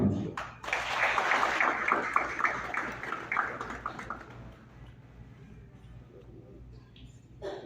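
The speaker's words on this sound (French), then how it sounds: "Veuillez applaudir." An audience at a youth government inauguration ceremony in Haiti claps in a round of applause that swells quickly, holds for a few seconds and then fades, with a brief speaking voice at the start.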